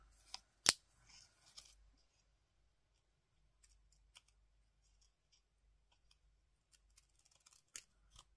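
Scissors trim the edge of a handmade paper card, giving one crisp close snip followed by a few faint clicks and light handling sounds in a quiet room.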